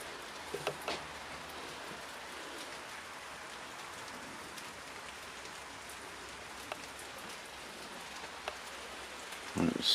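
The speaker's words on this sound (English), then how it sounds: "it's still raining." Steady rain falls outside old buildings, a soft continuous patter with occasional closer drips and taps, faint and even throughout.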